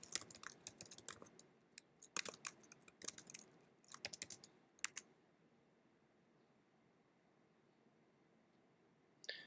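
Bursts of quick keystrokes on a computer keyboard, clustered typing for about five seconds followed by a quiet stretch and a lone final click, no speech.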